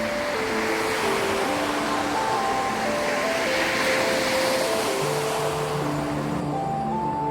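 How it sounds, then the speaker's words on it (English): Ocean waves breaking on a shore make a loud, continuous roar of surf throughout, with a soft melodic tune playing over the rushing water. "these waves rise and then crash on these shores"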